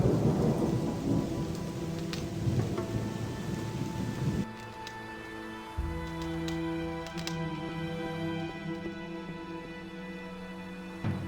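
Rain and thunder in the video game Gothic 2: loud rain and a deep rumble at first, then the storm abruptly drops to a quieter backdrop of rain with faint tonal ambience.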